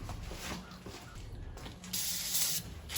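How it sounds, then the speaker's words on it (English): Penetrating oil sprayed at a seized bolt on a classic Chevy's leaf spring bushing, a soft, steady aerosol hiss running through the short stretch and swelling louder near the end, with no talk. "Let's put some penetrant in it."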